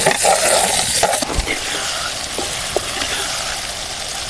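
Tomatoes frying in oil in a pan for a village-style brinjal (eggplant) oil gravy curry, a loud steady sizzle with a few soft stirring knocks, no talking.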